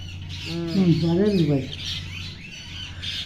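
A pet bird near its cage gives a loud, wavering call lasting about a second, close by, followed by softer chirps, with faint background noise.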